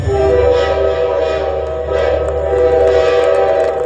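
Steady train horn or whistle from a Gulab train at Pachpadra, loud and sustained for several seconds over a continuous rail rumble, with no talk.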